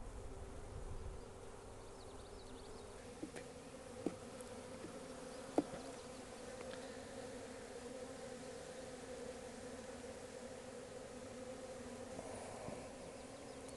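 Honeybees from a package colony buzz steadily during a hive inspection twelve days after installation, a soft, continuous drone with a few faint knocks and no talking.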